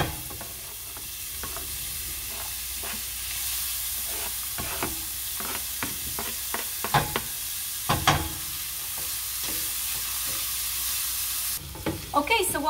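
Garlic and onion fry in hot oil, a steady bright sizzle with scattered scraping stirs and clicks of a utensil against the pan.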